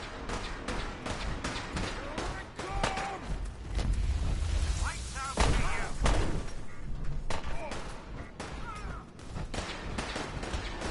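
Rapid bursts of Fallout 4 gunfire crackle continuously in a firefight, with booms and thuds mixed in, loud and dense throughout.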